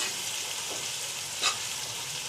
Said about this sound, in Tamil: இந்த வெங்காயம் கொஞ்சம் கோல்டன் ப்ரௌன் வர மாதிரி அளவுக்கு வதக்கிக்கணும்.